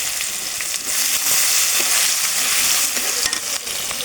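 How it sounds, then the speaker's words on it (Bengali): Chopped onion sizzles steadily in hot oil already holding bay leaves, cinnamon, cardamom and cloves, a continuous loud frying hiss with occasional stirring clicks and no voices. "কুচি করা পেঁয়াজ দিয়ে দিব।"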